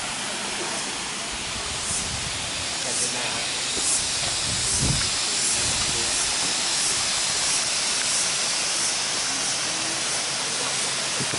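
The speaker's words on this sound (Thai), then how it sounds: "นี่ครับ น้ำตกเพียงดินนะครับ ที่หนองหินจังหวัดเลยครับผม" Phiang Din waterfall at Nong Hin in Loei province, fed by limestone hills, pours with a steady, full rushing hiss that holds even and close throughout, with no voices over it.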